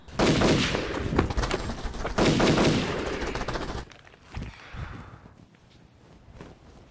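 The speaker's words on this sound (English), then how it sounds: "Shots fired." Several loud gunshots ring out in rapid bursts, like a fusillade, over the first four seconds. Fainter scattered shots and shuffling follow in a quieter stretch.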